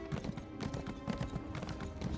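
Hooves of a horse in Elder Scrolls Online beat in a quick, even galloping rhythm, close and steady throughout the short stretch, with a faint neigh-like tone behind them.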